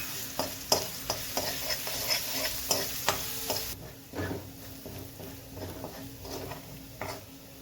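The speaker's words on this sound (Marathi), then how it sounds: "त्यामध्ये आलं, लसूण आणि मिरची पेस्ट घालून छान फ्राय करून घेऊ." Ginger, garlic and chili paste frying in a spoonful of oil in a kadhai, with steady sizzling and repeated stirring scrapes of a spoon against the pan, continuous and close, with no talking.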